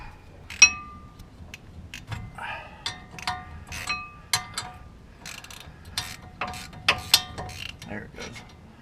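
Ratchet clicking in short bursts while the upper pinch bolt is removed from a Ford Ranger's suspension, with metallic clinks between the close, moderately loud bursts of pawl clicks.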